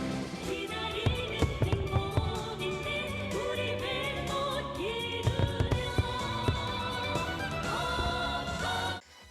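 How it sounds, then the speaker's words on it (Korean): New Year's midnight fireworks display in North Korea, a dense continuous crackle and rumble with repeated sharp bursts throughout, loud and sustained before cutting off at the end. "일일 0시가 되자 화려한 불꽃놀이도 펼쳐졌는데요"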